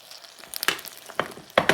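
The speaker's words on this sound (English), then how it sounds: "It's going to bubble up now" Vanilla hits hot peanut brittle candy in a pan and bubbles up in short sizzling bursts, three loud crackly surges separated by quieter hissing gaps, close by and without talk.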